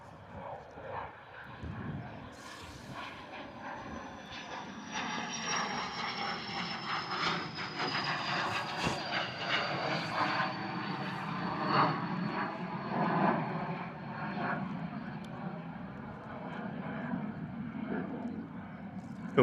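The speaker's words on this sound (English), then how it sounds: "Beautiful little Eclipse 500 taking off there." A small Eclipse 500 business jet takes off at Bristol Airport in a gusty crosswind, its engine roar sustained and broadband with a faint whine sliding down in pitch, fairly steady throughout with no talk.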